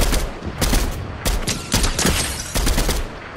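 Rapid bursts of video game gunfire from Fortnite crackle in repeated volleys, loud and close, with several sharp clusters of shots spread across the moment.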